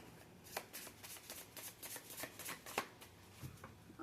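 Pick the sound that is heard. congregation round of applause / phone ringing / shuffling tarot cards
shuffling tarot cards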